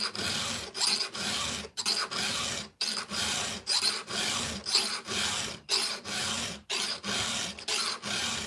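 A file rasps across a chainsaw chain's cutters in steady repeated strokes, each a bright scraping burst followed by a short pause, loud and close, with no voices.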